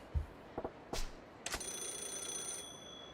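A telephone rings in a phone booth in the video game Yakuza 0, a bright electronic trill sustained for about a second after a few sharp knocks and clicks, fairly quiet.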